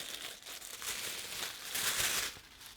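A cardboard toy package is opened up close, with crinkling and rustling that swells and fades over a few seconds, followed by a louder, sustained crackle before it stops.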